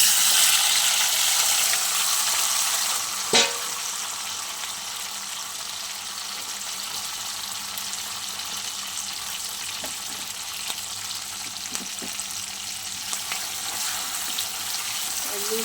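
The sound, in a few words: tomato, onion and Kashmiri capsicum frying in oil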